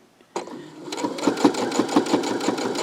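A sewing machine set to medium speed stitches a lanyard made from jelly roll fabric strips, starting abruptly and then running in an even, pulsing rhythm, close and clear.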